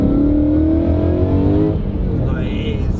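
An 800 BHP supercharged Ford Mustang engine revs hard and accelerates up close, a loud rising drone with climbing harmonics that breaks into a rougher roar partway through, with faint talk underneath.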